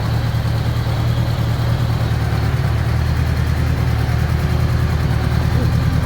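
A motorcycle engine on a budget bobber build idles unevenly and is in need of a carburetor sync, running as a steady, close, low rumble with no break across the clip.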